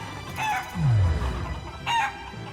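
Chickens cluck and squawk in short bursts in the video game Shenmue III, with a rooster-like crowing call in between, over a steady game background.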